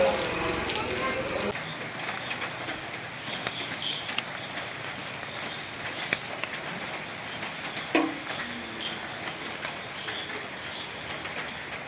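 Steady rain patters on surfaces throughout, with occasional sharper drips and knocks, heard from nearby at a moderate level.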